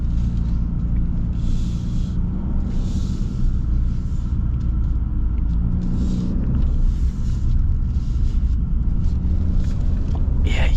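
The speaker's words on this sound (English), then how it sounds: "Yeah, you gotta love the Cummins. It's not just the performance, it's just the sound it makes." A 2025 Ram 3500 Big Horn pickup with its Cummins diesel engine running gives a steady, deep, moderately loud rumble that holds throughout with slight surges.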